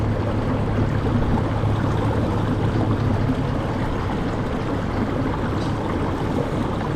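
Nucanoe U10 boat pushed by a Torqeedo 1103 electric motor at about half power, a steady close wash of water and hull rush with a low motor hum underneath, continuous and loud, no voices.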